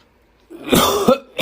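A man with a lingering cold coughs twice in quick succession, close and fairly loud, followed by the start of a third cough, with no talk.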